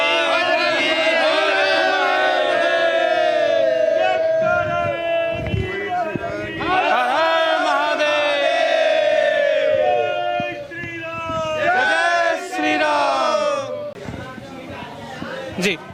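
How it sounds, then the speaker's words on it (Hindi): Crowd of devotees chanting and shouting religious slogans in unison inside the main sanctum of Khereshwar temple during Mahashivratri, loud and continuous with rising and falling waves of voices throughout. "यहाँ पे आप जयकारों की आवाज़ सुन सकते हैं।"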